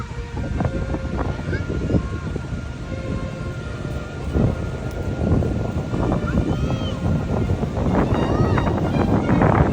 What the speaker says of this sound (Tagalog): ipaparinig ko nga pala kung gaano kalakas pala yung hangin dito sa may beachfront or dito sa may Lingayen Baywalk